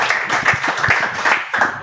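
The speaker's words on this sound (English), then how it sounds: "Please give a round of applause to Ron," An audience claps for Ron at an evening talk show event, a short burst of uneven hand claps with a few louder individual claps standing out.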